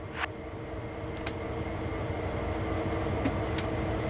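A GP-38 diesel locomotive idling in Train Sim World 4, a steady low rumble with faint clicks and short hissing bursts, close and continuous with no voices.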